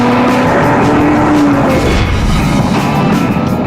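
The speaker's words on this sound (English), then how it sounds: "you engage the sports exhaust system, which makes it even louder." A Jaguar F-TYPE with a 3-litre supercharged V6 and its sports exhaust engaged revs loud and near, a rising then falling engine roar that holds steady for several seconds without speech.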